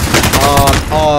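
Close, loud rapid gunfire from the video game Call of Duty Warzone, a quick burst of repeated shots during a fight.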